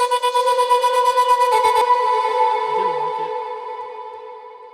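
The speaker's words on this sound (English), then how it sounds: "That's just to cover up the little stutter effect, which sounds like this by itself." A sustained tonal synth note with a rapid, choppy stutter at the start that smooths out and fades away, heard alone.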